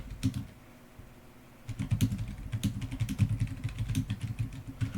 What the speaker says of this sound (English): So I'm going to type in a for loop.